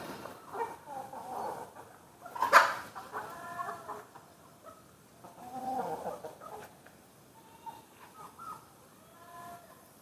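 Desi chickens on a farm cluck intermittently at moderate distance, with soft scattered calls and one sharper squawk over quiet background noise.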